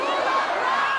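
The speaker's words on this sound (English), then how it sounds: "The crowd is chanting for you guys." A film concert crowd chanting for a band, a massed wash of many voices in unison that swells and fades over about a second.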